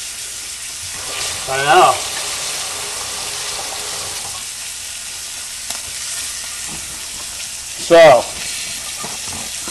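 Liver and heart fry in a pan with a steady, moderate sizzle close by. A person speaks briefly twice over the cooking.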